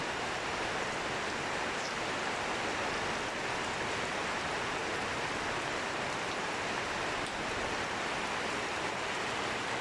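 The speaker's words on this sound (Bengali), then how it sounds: "কিন্তু একটানা বৃষ্টি নামতেছেই" Steady, continuous rain falls at night in a rural Parulia Union village in Kashiani, Gopalganj, as an even, unbroken wash of noise at a constant level with no voices.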